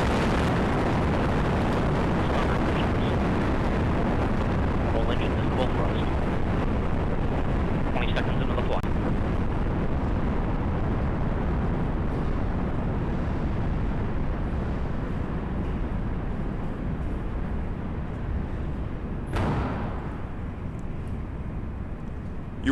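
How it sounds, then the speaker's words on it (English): Liftoff roar of a United Launch Alliance Delta IV Heavy rocket on its RS-68 engines, launching the NROL-65 mission: a dense, sustained low rumble holding steady and loud throughout, with faint commentary voices beneath it. "We have liftoff of the United Launch Alliance Delta IV Heavy Rocket carrying the NROL L-65 mission to the National Reconnaissance Office."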